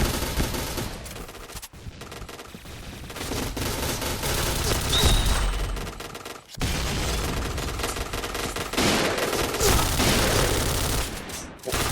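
Paintball markers fire in rapid bursts during an outdoor game, a loud near fusillade of repeated shots that stops briefly and resumes, with players' voices faintly mixed in.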